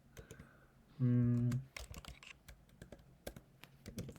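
Computer keyboard typing while writing code in a ServiceNow UI Builder script, with light, irregular key clicks in short clusters, faint and close, next to a brief hum and some soft speech.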